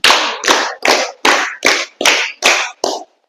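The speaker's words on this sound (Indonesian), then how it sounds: "Tepuk tangan 7 kali." Seven sharp, evenly spaced claps from a group of children clapping together, each burst loud and close, with brief silences between and a slightly softer final clap.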